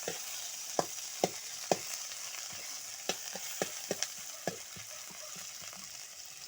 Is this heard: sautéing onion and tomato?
yes